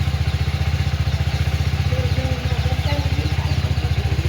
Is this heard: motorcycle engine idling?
yes